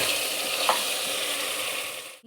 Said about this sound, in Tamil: இப்போ டொமேட்டோவை ஆட் பண்ணிக்கிட்டேன். நல்லா வதக்கிக்கணும்.